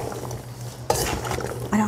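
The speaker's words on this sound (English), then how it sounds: "So now we're just going to mix it up, get it all mixed together really good." Chopped cauliflower, kohlrabi, celery, carrot, onion and garlic being mixed together for cultured vegetables, with a sharp scraping stir near the middle and another toward the end over a quiet, steady background hum.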